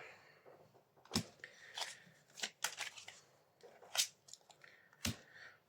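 Tarot cards are shuffled close up in quiet bursts, with crisp riffling and sharp snaps of the deck at irregular intervals and no talk over them.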